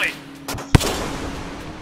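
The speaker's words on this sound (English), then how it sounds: "somehow the explosion from my own explosive spear did not kill me" An explosive spear detonates in the video game Rain World, a single sharp boom near the middle following a softer thud, with game ambience and faint background around it.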